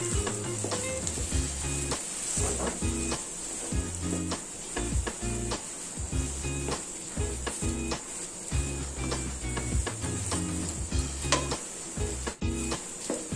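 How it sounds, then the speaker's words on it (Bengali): Sweet potato pieces sizzle steadily in a pan over low heat, with intermittent scraping and stirring clicks of a spatula against the pan throughout. "দেখুন মিষ্টি আলুটা একটু ভাজা ভাজা হয়ে গেছে"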